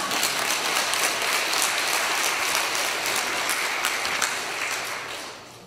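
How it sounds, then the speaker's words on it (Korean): Church congregation claps together in a loud, dense burst of applause, many hands at once in a steady wash that fades out over the last second. "박수를 치려고 그러면 제대로 치든지."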